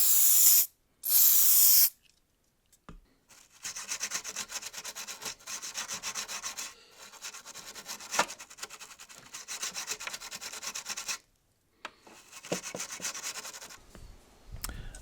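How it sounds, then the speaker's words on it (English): Toothbrush scrubbing a Mad Max Sega Mega Drive circuit board with contact cleaner, bursts of hissing spray and steady bristly rubbing in several stretches broken by short pauses, close and fairly loud. "some actual contact cleaner this time, and I set about doing some spraying and scrubbing"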